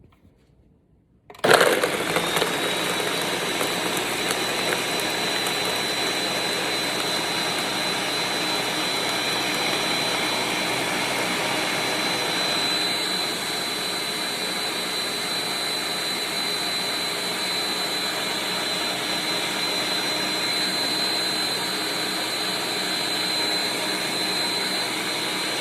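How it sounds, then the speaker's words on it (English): A blender blending fruit for a detox drink runs loud and steady, a continuous whirring roar that starts abruptly and holds for the whole stretch with no talking. "We're gonna blend it."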